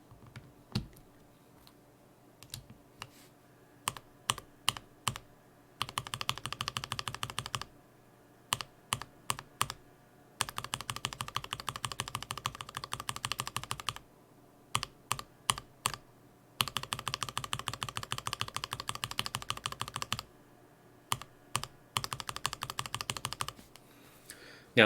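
Filmed Alpaca v2 mechanical keyboard switches being typed, sounding like crisp clicky keystrokes close to the mic, in scattered single presses alternating with fast continuous bursts of typing, with a slight rattle.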